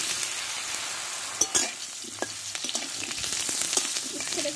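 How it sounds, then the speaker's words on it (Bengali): Bitter gourd pieces frying in hot oil, a steady close sizzle with crackles and a few sharp pops and stirring clatters, cooked for a Bengali shukto. "দিয়ে এবারে আমি এই তেলে উচ্ছেটাকে আগে ভেজে নেব।"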